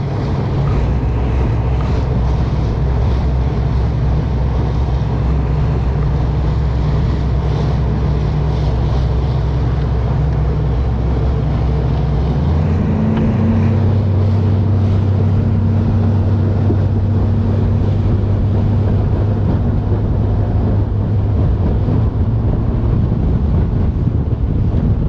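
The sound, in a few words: wind on a lake while out bass fishing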